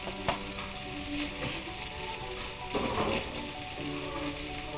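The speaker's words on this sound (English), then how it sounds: "So I'm gonna brown my onions. Y'all be careful. This little grease like to fight back." Onions browning in leftover grease from Salisbury steak patties, a close, continuous crackling sizzle with stirring scrapes and a few louder spitting bursts, no voices.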